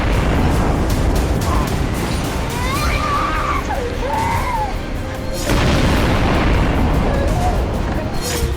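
Heavy, continuous rumbling booms of artillery shelling in the Russia-Ukraine war, with a dense low roar, swelling again partway through; faint tonal sounds drift above the din.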